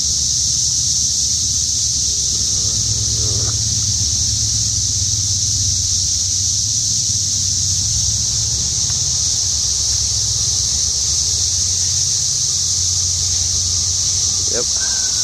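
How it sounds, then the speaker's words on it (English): Cicadas drone in a loud, unbroken high buzz throughout, with a low vehicle-like hum underneath and a couple of brief squeaks. "Cicadas."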